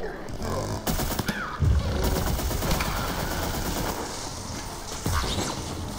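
Rapid shooting in Plants vs Zombies 2 in 3D, a steady stream of close, rattling shots with a few sharper hits and impacts layered over busy game noise.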